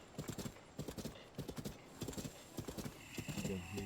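Horse hooves in Zelda Tears of the Kingdom, a rapid, rhythmic clip-clop of hoofbeats in repeated bursts, fairly close, with a brief whinny and a person speaking underneath.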